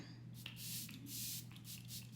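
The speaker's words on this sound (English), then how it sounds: "So I'm going in with some more setting spray." Several soft bursts of fine mist from a makeup setting spray, each a brief airy hiss, repeated in a loose rhythm close by, with a steady low hum underneath.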